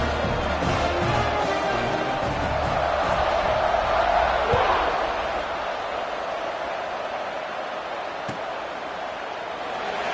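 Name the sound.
stadium crowd cheering at football kickoff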